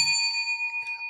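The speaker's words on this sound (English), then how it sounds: "Let's ring the bell for that also." A single bell is struck once and rings out clear and loud, its bright tone lingering and pulsing slowly for about a second.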